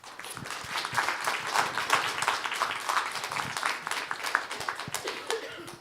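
Audience applause for student presenters, a steady wash of many hands clapping at close range, sustained throughout with a few scattered chuckles mixed in.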